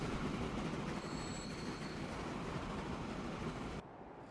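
A train rolls along in Transport Fever 2 with steady rumbling wheels and brief high squeals, loud and continuous before the sound drops off abruptly near the end.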